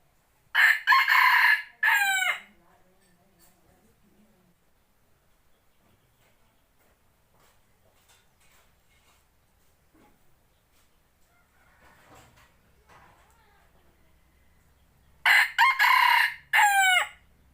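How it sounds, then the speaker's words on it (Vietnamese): An F2 gamecock rooster crows loudly twice, once near the start and again at the end, each a full cock-a-doodle-doo call, with near silence and faint ticking in between. "gáy căng lắm rồi, sung lắm rồi đấy."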